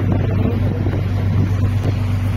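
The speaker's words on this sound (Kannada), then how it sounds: "ಹೌದಿಲ್ಲ ಈಗ ಬೋಟ್ ಬರ್ಪುಂಡು" A boat's engine drones steadily at sea during a coastal boat ride off Mangalore, with a loud low rumble and wind buffeting the microphone throughout.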